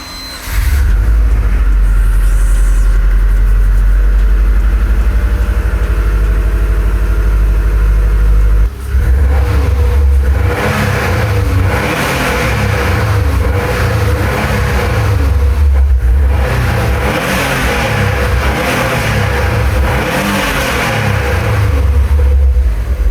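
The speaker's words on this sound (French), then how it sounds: "Le boxer turbo de la Subaru remplit l'espace de ce son incomparable." An abandoned Subaru WRX with a freshly serviced EJ255 boxer turbo engine runs close by, a steady loud idle rumble followed by repeated revs that rise and fall in pitch.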